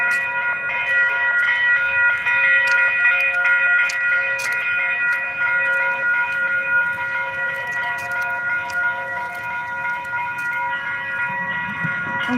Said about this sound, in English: A northbound Blue Line train to downtown Minneapolis is arriving.